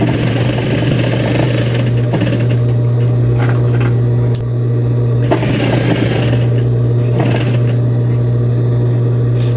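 A sewing machine stitching pleats, a loud steady motor hum with bursts of rapid needle clatter that start and stop several times, no talk.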